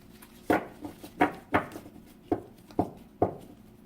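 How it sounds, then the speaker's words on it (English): A series of about seven soft, separate thumps and slaps, spaced unevenly, as stiff heart-shaped cards are handled and shuffled close by. "these are heart-shaped cards. It takes so much longer for me to shuffle"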